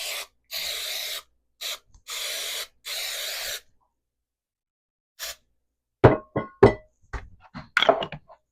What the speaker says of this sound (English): So I'm going to spray them and flour them.